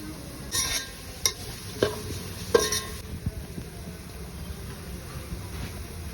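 Onions for beef biryani sauté in a pan with a soft sizzle, interrupted by a few distinct stirring scrapes and clacks early on before settling into a quieter, steady frying hiss.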